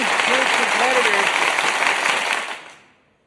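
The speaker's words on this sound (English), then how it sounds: "hell yeah, round of applause." Crowd applause for wrestling tag team champions at a live show, sustained clapping under an announcer's voice before fading out at the end.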